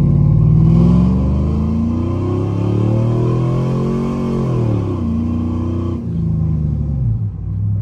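A truck fitted with a BTR Truck Norris cam and tuned engine pulls hard from a slow first-gear roll, its loud, close exhaust rising steadily in pitch, dipping briefly at a shift, then climbing again.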